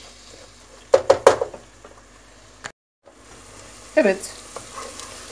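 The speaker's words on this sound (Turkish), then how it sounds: "1-2 dakika salçamı kavuracağım." Tomato paste frying in a pan, with a few sharp sizzling bursts and stirring scrapes against a quiet background, a brief silence, then another louder sizzle; someone speaks briefly.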